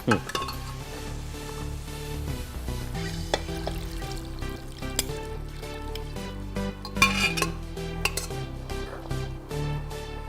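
Mutton soup poured into a pot of food cooking on the stove, with a continuous frying sizzle, clinks of a metal spoon against the pot, and background music running throughout.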